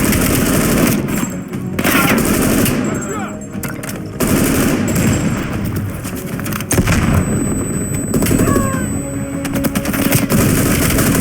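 Machine gun fire in the video game Call of Duty Black Ops Cold War, loud sustained bursts and rattling gunfire with booming impacts throughout, dense and continuous, with a voice faintly under the combat.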